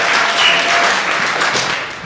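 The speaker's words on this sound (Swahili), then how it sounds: "Makofi tafadhali." An audience at a meeting breaks into loud, continuous applause, a thick wash of clapping that holds steady for two seconds before beginning to ease.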